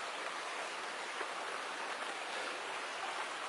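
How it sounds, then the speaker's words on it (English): A creek beside a hiking trail gives off a steady, even rush of flowing water, constant and fairly close, with no voices over it. "And there's the creek."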